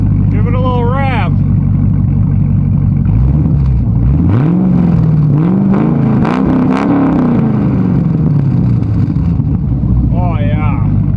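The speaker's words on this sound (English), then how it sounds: "Give it a little rev." A BMW E30 with an LS V8 swap revs up, its engine rising in pitch, then falling back to idle, loud and close, with voices heard at the start and end.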